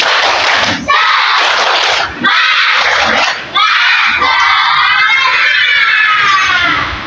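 Fourth-grade schoolchildren in a classroom perform the tepuk semangat clapping cheer, loud shouting and chanting in bursts with short pauses between.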